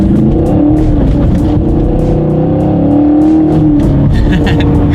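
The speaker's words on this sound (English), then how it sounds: "let's do a quick little acceleration here" A 2019 Chevrolet Camaro SS accelerates hard, its engine note rising loud and close through the gears before the exhaust pops and crackles near the end.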